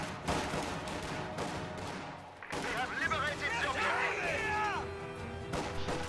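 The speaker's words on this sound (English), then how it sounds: "Grenadiers firing from position at close range" Grenadiers fire guns at close range in a World War II real-time strategy game, with sharp cracks and bursts of gunfire mixed with battle clatter while someone narrates over it.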